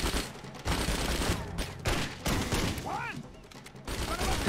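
Gunfire in a video game firefight in Wheelman, bursts of rapid shots and impacts layered with game effects, while someone talks over the action.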